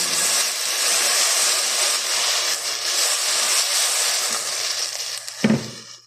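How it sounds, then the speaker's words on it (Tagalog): A blender whirs steadily at close range, blending tomatoes with a broad, noisy roar, then cuts off abruptly near the end with a brief clunk. "Ang ating tomato blender."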